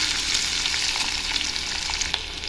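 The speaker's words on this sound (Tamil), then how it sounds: "வெங்காயம் கொஞ்சம் வதங்கட்டும்." Chopped onion sautés in hot oil for a drumstick-leaf sambar, a steady, close, dense sizzle and crackle with no voices.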